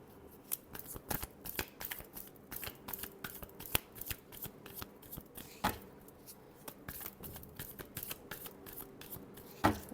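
Tarot cards are shuffled by hand, producing quiet, rapid papery flicks and riffles in irregular bursts that run steadily throughout, with no talking.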